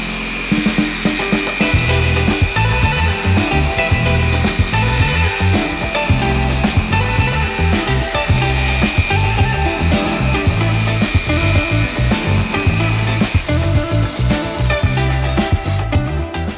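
A Rupes polisher with a cutting pad runs at low speed buffing a high-gloss guitar finish, a loud, steady whirring hum with rhythmic pulsing and occasional scuffs against the surface.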